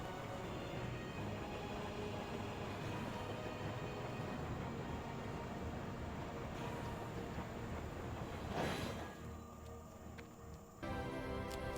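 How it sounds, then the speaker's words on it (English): Tram ride in the World of Warcraft video game, with a steady, loud rumbling train-car drone running throughout, a brief louder swell near the end, then a sudden drop in level. "The tram ride was honestly very immersive."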